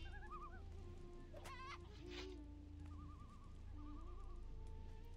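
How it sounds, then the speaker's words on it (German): A chicken clucks and crows in the video game Gothic 3, faint bird calls heard among warbling game ambience and other animal sounds, with no one talking. "Ich höre hier noch einen Huhn irgendwo."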